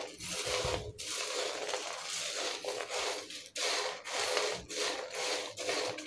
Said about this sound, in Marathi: याच्यावरती हा मसाला थोडासा अशा पद्धतीने टाकून मिक्स करायचा आहे